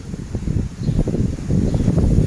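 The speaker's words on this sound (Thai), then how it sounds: "เสียงลมนะคะแม่แม่" Strong wind gusts ahead of a dark rainstorm and buffet the microphone outdoors. The roar is low, steady and loud throughout and stands alone without speech.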